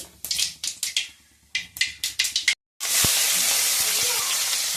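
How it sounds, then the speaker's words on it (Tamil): Mustard seeds crackle and pop in hot groundnut oil in a home kitchen, sharp rapid bursts in quick clusters, then a brief gap before a steady loud sizzle of frying takes over. "கடுகு நல்லா பொரியுது."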